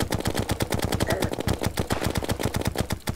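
Rapid automatic gunfire from a minishark-style gun in the game Terraria, a fast, even stream of sharp shots repeating without pause, loud and alone.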